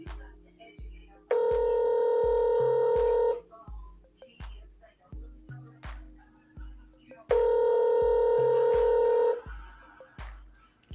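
Telephone call being placed: a steady run of dial tones, then two long electronic ring tones separated by a pause, all fairly loud and clear with no talking.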